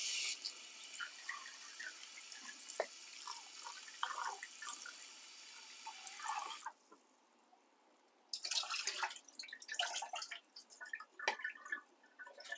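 Cubes of thawed beef being washed under a running tap, a steady hiss of flowing water with splashes and drips, broken by a brief pause before the water runs again, faint and close.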